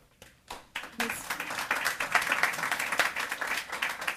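Applause at a county board of education meeting swells from a few scattered claps into steady, fairly faint clapping from the room, with no talking over it.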